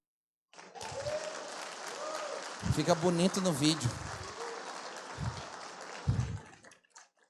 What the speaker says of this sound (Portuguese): Nessa hora você tinha que aplaudir.